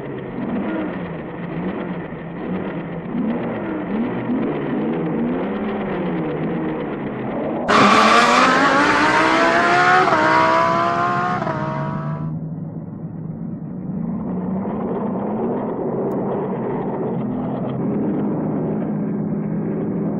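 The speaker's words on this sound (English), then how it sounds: "Rev it up." Car engine revving before a drag race in a 1962 film, a loud sustained drone that climbs sharply in pitch, holds, then falls back to a steady idle-like roar.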